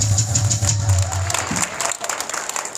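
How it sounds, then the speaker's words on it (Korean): A crowd at an outdoor church worship rally in front of the Blue House breaks into applause, clapping under a low hum at first, then a looser patter of claps as it thins out. "큰 박수로 환영해 주십시오"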